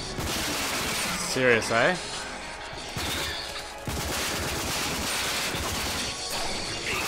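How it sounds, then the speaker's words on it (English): Upgraded assault rifles rattle off sustained automatic gunfire during an arena fight on the Mutant Bash TV stage in the game RAGE. Dense bursts run throughout, with a voice speaking briefly over the shooting. "good thing I bought these upgrades for these assault rifles"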